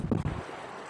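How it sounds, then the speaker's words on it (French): Strong outdoor wind buffets the microphone, making a low, rumbling roar that is loudest at the start and then settles into a softer steady rush, with no talking. "il y a beaucoup de vent, j'espère que vous m'entendez bien"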